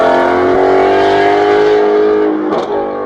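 A 2016 Ford Mustang Shelby GT350R V8 revs loudly up close with a sustained engine note, then falls off sharply in a quick throttle blip near the end.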